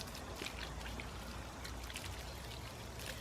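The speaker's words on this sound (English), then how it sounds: "What I'm going to do now, just the hose, and just give it a rinse off." A garden hose rinses peroxide off a deer skull being cleaned for a European mount. Water splashes and patters steadily and faintly throughout, with no talk.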